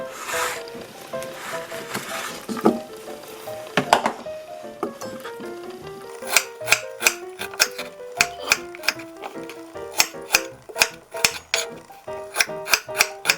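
A knife chops peeled ginger repeatedly on a cutting board, irregular at first and then in quick steady strokes, with clicks over a faint musical background.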